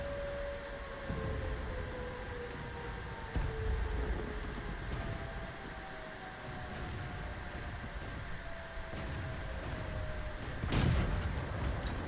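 A T40 tank destroyer's gun fires in World of Tanks, several heavy booms spaced across a steady engine drone with a sharp loud blast near the end; no talk.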